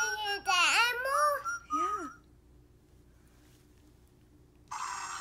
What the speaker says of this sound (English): What is that sound? It's a walrus.